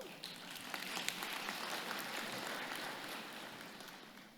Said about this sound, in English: How many folks are excited by those numbers? Say it. Clap if you are.